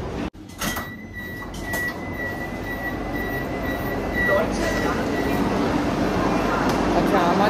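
A Vande Bharat express train runs on rails, heard from inside as a steady rumbling roll that builds gradually after a door-like clunk near the start, with a faint whine above the rumble.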